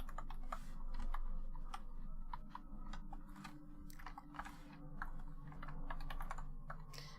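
Fast typing on a computer keyboard: irregular bursts of light, close key clicks with brief pauses between words, continuing alone for several seconds over a low room hum.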